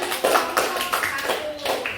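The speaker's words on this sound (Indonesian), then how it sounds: "Tepuk tangan." Listeners clap after a presentation at a teachers' coaching session, a short burst of several hands clapping unevenly at moderate volume, with faint speech mixed in.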